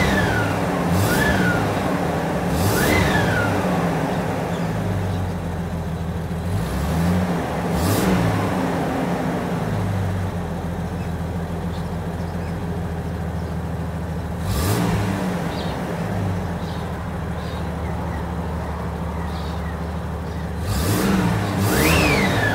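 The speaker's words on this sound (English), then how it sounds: "But I'll give it a few revs just so we can see the values change." A car engine revs up repeatedly during a wideband air-fuel gauge test, rising and falling in pitch between steady idling, close and loud.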